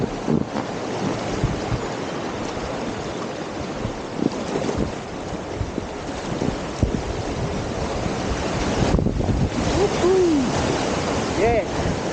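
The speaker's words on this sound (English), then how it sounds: "this beautiful, clear strip of water rushing down over some lava rocks" A clear mountain creek rushes over lava rocks, a steady broadband wash of water with wind buffeting the microphone throughout, close and loud, with a few faint tonal chirps near the end.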